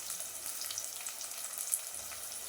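Onions with salt frying in a pan for a cauliflower, potato and chickpea curry, a steady soft hiss with faint crackles throughout, close and alone.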